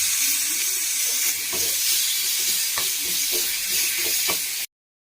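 Tomatoes hit a hot pan and fry with a loud, continuous sizzle and hiss. Stirring scrapes and clinks sound now and then over the sizzle, and it all cuts off abruptly near the end.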